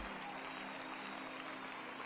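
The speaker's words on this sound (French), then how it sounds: "Applaudissons au Seigneur." A congregation at a worship service applauds in a continuous, even wash of clapping that sounds fairly distant and quiet throughout.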